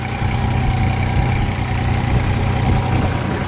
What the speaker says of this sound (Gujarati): આ રીતે ટ્રેક્ટર ચાલે છે.